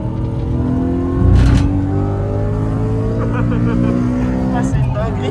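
Nissan 370Z Nismo at full throttle on a race circuit, its engine droning loud and steady with a rising, harmonic-rich tone heard from inside the car, while people talk over it.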